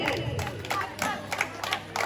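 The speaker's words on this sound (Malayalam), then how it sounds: "ശനിലേട്ടന് ശേഷം കൈയടിച്ച് പ്രോത്സാഹിപ്പിക്കേ" A crowd claps and cheers in short, lively bursts during an Onam celebration game, with rhythmic clapping and shouting voices mixed together.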